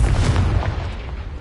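A Confringo fire spell detonating in the video game Hogwarts Legacy, a single close, heavy boom with a rumbling low tail that fades over about a second.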